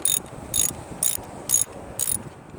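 A wrench ratchets in five short, evenly spaced bursts of clicking while loosening a car battery terminal, heard close up with no talking.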